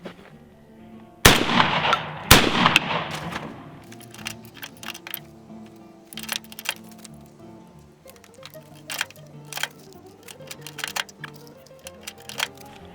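A shotgun fires Winchester Super X shells reloaded with extra shot: two loud, close blasts in quick succession, followed by scattered clatter and handling noise.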